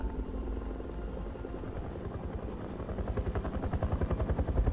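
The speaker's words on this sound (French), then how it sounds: "il y a encore l'hélico qui passe" A helicopter passes overhead with a steady low rumble. Its rotor thump grows into a distinct, rapid pulsing that gets louder toward the end, heard with no talking.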